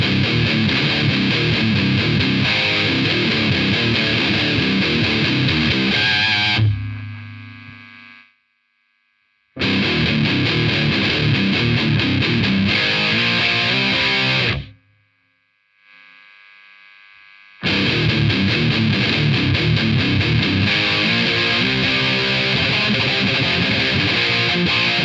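Electric guitar played through a Moen Phoenix Song distortion pedal with the gain cranked to maximum, loud and saturated with hum and hiss, in two long bursts separated by abrupt silences and a brief quieter stretch.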